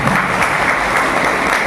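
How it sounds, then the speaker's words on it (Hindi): Loud, energetic applause for Pant ji from a crowd at a direct-selling meeting, dense clapping sustained evenly and heard close up without speech. "बैठे पंत जी जोरदार तालियां"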